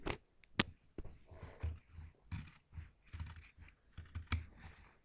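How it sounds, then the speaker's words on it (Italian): Close, crisp snipping of tailor's scissors cutting through fabric, a series of sharp irregular clicks and slicing sounds, quiet and without talking. "Sentite che bel rumore questa forbice?"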